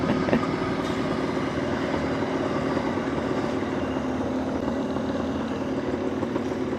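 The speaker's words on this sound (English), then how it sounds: "Sometimes these trains go for miles." A train rumbles steadily past a rural level crossing in the Australian countryside, a continuous close, loud drone of wagons rolling by with faint rhythmic clatter throughout.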